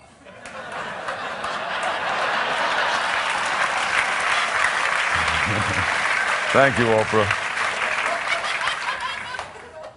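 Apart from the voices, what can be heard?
studio audience applause for a guest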